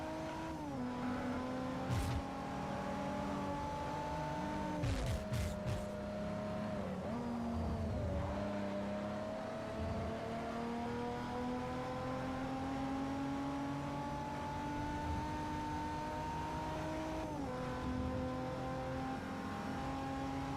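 Race cars in Forza Motorsport 4, including a Mark IV Supra, roar steadily with engine tones rising and falling through gear changes and brief tire noise, continuous and fairly loud with no talk.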